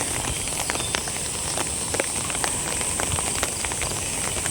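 Rain falling outside, a steady hiss of drops pattering on surfaces with scattered sharper drips, no one speaking.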